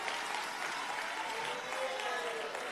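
Sustained applause from a political conference audience honouring comrades at the ANC National General Council in South Africa, a dense, steady wash of clapping from a large hall crowd that runs the whole time.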